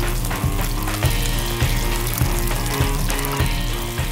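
Sea bass laid skin side down in hot olive oil, sizzling steadily in a pan, with a few soft knocks and clinks from the pan throughout; close and continuous, with no talking.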